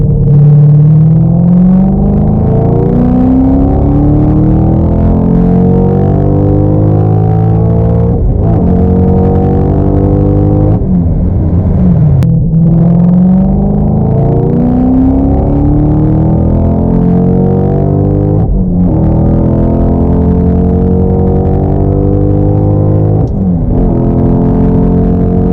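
Car engine pulling hard in third gear on a road trip in Mexico, a loud continuous drone whose pitch climbs steadily, drops briefly at each shift point and rises again, with no voices.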